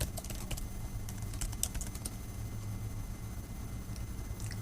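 Rapid, faint clicking of a computer keyboard as an administrator password is typed on a Mac, a quick cluster of keystrokes at first, then sparser taps over a steady low background hum.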